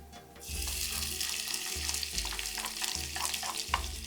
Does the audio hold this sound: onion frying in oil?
yes